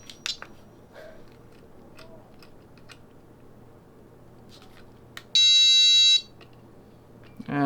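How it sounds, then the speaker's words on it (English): A multimeter's continuity beeper gives one steady, loud electronic tone lasting under a second while a knock sensor is tested. A few faint clicks and handling taps come before it against a quiet room. "Oh, I can turn that beeper off."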